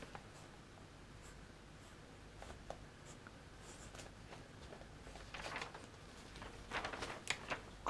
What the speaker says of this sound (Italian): adesso farò il disegno più bello di tutta la storia.